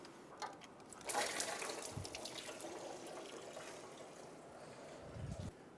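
Engine coolant from a 2010-2014 Subaru Outback engine block draining into a collection bucket after a block plug is removed, a steady watery trickle and splash of moderate, close loudness that runs through the whole stretch.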